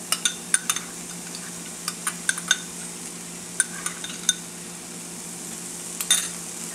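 A spoon stirs a beans and ground coconut mixture in a pan, giving faint scattered metallic clinks and scrapes over a soft, quiet sizzle.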